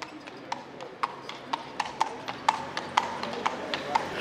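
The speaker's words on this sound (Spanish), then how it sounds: "A la policía y un caballo." Hooves of a police horse clip-clop on a city street in Ghent, Belgium, a steady series of sharp, evenly spaced strikes over a faint street murmur with a hint of background voices.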